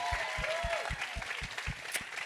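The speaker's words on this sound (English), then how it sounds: "let's give her a nice big round of applause as well" Audience applause at a live-streamed event, a steady wash of clapping hands with rhythmic low thumps running under it for a couple of seconds.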